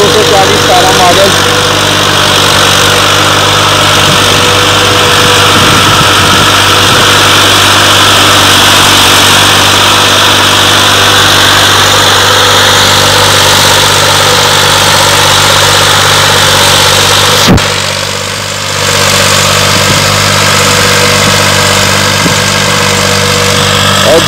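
A 2017 Massey Ferguson 240 tractor with a Stanadyne pump runs pulling a 7 tine chisel through a field, a loud, steady engine drone with constant hum and vibration throughout, close by and continuous.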